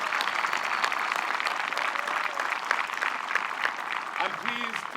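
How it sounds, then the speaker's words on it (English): Steady crowd applause for a runner-up at a disc golf championship playoff at Smuggler's Notch, continuous clapping with a voice briefly audible near the end. "how about a big round of applause for our runner-up in this playoff, Silva Saarinen"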